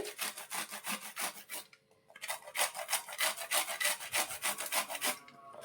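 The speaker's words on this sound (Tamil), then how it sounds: "நம்ம இப்போ இதை லைட்டாக அப்படியே துருவி எடுத்துக்கலாம்" Steady rhythmic rasping of food being grated lightly on a hand grater, quick back-and-forth strokes close up, pausing briefly before resuming at an even pace.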